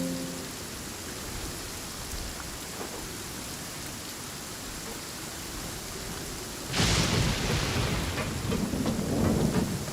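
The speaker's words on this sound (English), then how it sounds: "Please stay indoors until the storm passes." A thunderstorm with steady heavy rain in Genshin Impact, Fontaine, a constant wash of rainfall that swells abruptly into a loud, broad thunder crash partway through and stays louder after it.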